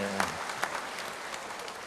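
A short burst of faint audience applause fills a hall at a Sangha Theravada Indonesia anniversary gathering, scattered claps blending into a soft, even patter with no talking over it.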